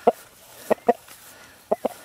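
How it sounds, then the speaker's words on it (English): A one-year-old Cornish Cross rooster gives a few short, low clucks close by, arriving in a quick pair and then another pair with quiet gaps between. "here he is, the giant chicken"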